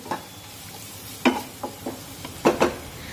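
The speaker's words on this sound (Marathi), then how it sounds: "आलं लसूण पेस्ट सुद्धा अगदी व्यवस्थित यामध्ये परतून घेऊ।" Ginger garlic paste being sautéed with onions for soybean chunk bhurji, heard as a low background sizzle broken by several short scraping stirs of a spoon against the pan.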